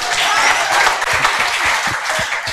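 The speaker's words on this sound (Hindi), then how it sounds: "ये देख लो, बजाओ ताली।" An audience in a classroom applauding, a dense steady clapping that stays loud and close for the whole stretch with no pauses.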